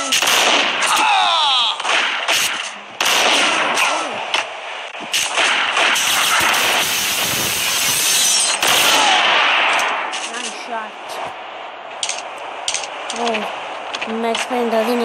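Gunfire in the Max Payne video game comes in loud, rapid bursts and single sharp shots, dense in the first half and sparser later, with a voice talking between some of them.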